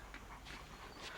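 Dog whimpering and panting softly, quick breathy pants broken by thin high whines, faint and close, with no talking.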